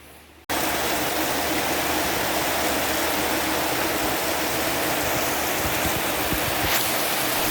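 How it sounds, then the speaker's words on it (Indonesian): Heavy rain pours down steadily in Girimulyo in January, a dense, loud, unbroken roar of water that starts abruptly after a brief quiet moment and continues alone without voices. "Hujan kali ini memang sangat luar biasa sekali guys, sangat deras."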